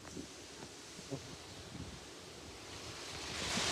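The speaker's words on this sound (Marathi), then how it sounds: "हवा खूप जास्त आहे, आमची छत्री उलट्या होते." Strong wind roars steadily near a waterfall in Mahabaleshwar, a broad hiss with gusty rumble at the microphone that swells louder toward the end.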